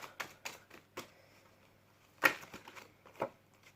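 Tarot cards are shuffled and drawn at close range, a series of soft, sharp flicks and snaps spaced irregularly, with a louder slap near the middle, in a quiet room.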